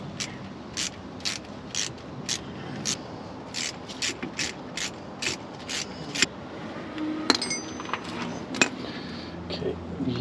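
Ratchet wrench loosening drive shaft bolts on a Jeep TJ, heard as repeated quick bursts of metallic clicking at a steady rhythm, close and fairly crisp, over a low background hum, with a brief clank near the end.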